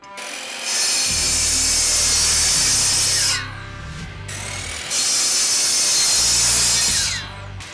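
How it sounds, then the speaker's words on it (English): A power saw slices a decking board to length in two cuts, each a loud close whine that rises as the blade bites the wood and drops off after, with motor hum in the gaps. "We're going to cut 2 pieces down to 6 inches long."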